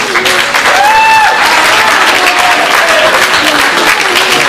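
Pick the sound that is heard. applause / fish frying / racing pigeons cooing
applause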